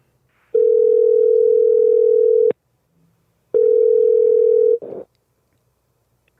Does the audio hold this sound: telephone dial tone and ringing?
yes